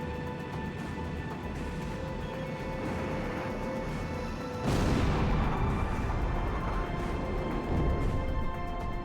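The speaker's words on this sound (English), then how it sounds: "Missile on target!" A missile explosion in the flight game Ace Combat X, a sudden loud blast partway through that sends a rumble over the ongoing jet and combat noise.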